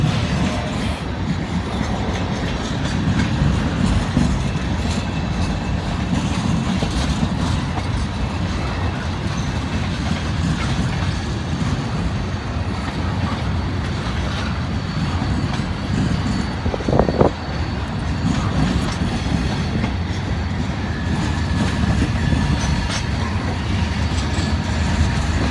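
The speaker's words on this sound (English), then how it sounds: "This train's so long, it must stretch all the way to Michigan." A long freight train rolls steadily by, a continuous rumble of wheels and cars with occasional clanks, lasting the whole stretch without letup.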